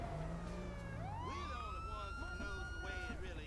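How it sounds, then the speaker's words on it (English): A police car siren in a GTA game with a police mod, wailing and sweeping steadily up and down over a constant vehicle rumble, loud and near, with talk underneath. "So I'm going to change the siren back to normal."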